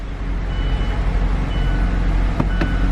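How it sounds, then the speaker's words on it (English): A 2013 Mazda CX-5 Grand Touring with push-start ignition runs with a close, steady low engine rumble, a couple of brief clicks or chimes near the end, and no voices. "Push start ignition."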